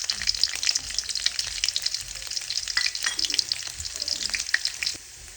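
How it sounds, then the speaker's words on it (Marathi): Peeled garlic sautéing in hot oil in a kadai: a close, continuous crackling sizzle with scattered pops and occasional stirring, fading slightly at the very end. "आता आपण तेलामध्ये घालू आणि लालसर कलर येईस्तोवर आपण लसूण तेलामध्ये"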